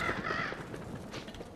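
Birds in the Don't Starve video game give a couple of short raspy caw-like calls near the start, followed by quieter scattered game sounds.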